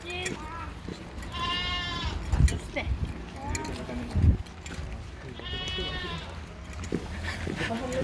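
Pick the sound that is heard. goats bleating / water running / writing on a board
goats bleating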